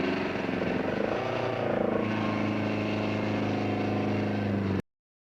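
A 1976 rally car engine running rough at a stage finish, a continuous loud droning motor with a slight waver partway through, close and steady before cutting off abruptly.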